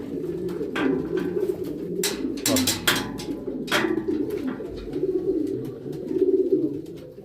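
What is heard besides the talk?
male homing pigeon cooing while courting a female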